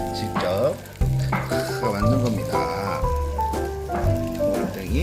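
Korean jeon patties of minced meat (omurangttaeng) sizzle and fry steadily in an oiled pan for a Lunar New Year feast, a continuous crackling hiss heard up close with a faint voice and some background tones underneath.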